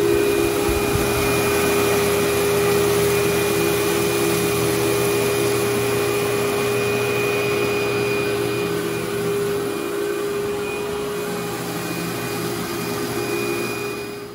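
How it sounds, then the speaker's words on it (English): A carpet-cleaning vacuum runs over badly soiled carpet with a loud, constant motor whine and roar that holds steady throughout, easing slightly near the end. "Basically vacuumed just this section here."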